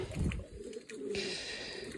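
Pigeons bathing and cooing softly nearby, a low murmuring burble with a brief flutter of activity, steady background ambience throughout.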